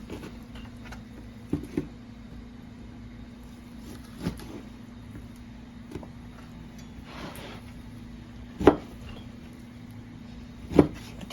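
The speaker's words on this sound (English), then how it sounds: "I got some beef at Sam's Club and I'm just gonna chop it up" Raw beef from Sam's Club being cut into cubes with a knife on a wobbly table: sparse, irregular thuds and knocks, a few sharper and louder, over a faint steady hum.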